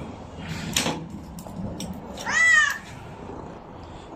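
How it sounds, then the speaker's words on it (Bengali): A stray cat in Delhi gives one clear, drawn-out meow close by, preceded by a few soft knocks and thuds in a quiet indoor space. "এই বিলাইটা এত কিউট"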